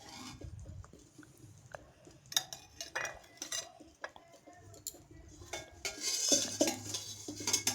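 Fried bhola fish being lifted out of a frying pan, with scattered metal utensil scrapes and clinks against the pan over a low sizzle, close and intermittent, no voices.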